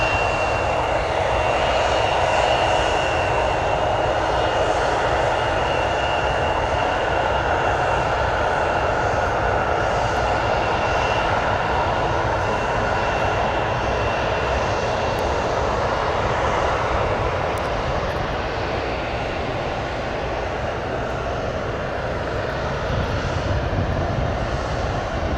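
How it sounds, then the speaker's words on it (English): Aircraft taxiing at O'Hare Airport give off a steady, loud engine roar with a constant whine that holds unbroken from start to finish, with no voices over it. "Got a couple other aircraft taxiing behind here."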